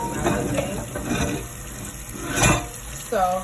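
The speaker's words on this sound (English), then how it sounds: "So I like to just keep the cool water on it, running that on there until I'm ready for the pasta to go back to the pasta mix." Cold tap water runs over cooked macaroni in a kitchen sink, a soft splashing rush that surges and dips over a few seconds, with a brief clatter near the end.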